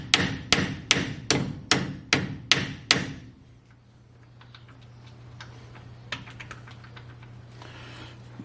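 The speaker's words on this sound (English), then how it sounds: "Then I'm going to use a brass hammer," Seven sharp metallic taps of a brass hammer on a pin in a 1951 GMC truck's front end, at a steady beat, close and loud, followed by quiet faint ticks and a low hum.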